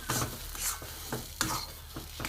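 Pea filling for vegetable chops being stirred and dry-fried in a pan with salt, giving repeated scraping strokes over a steady low sizzle, close and moderately loud.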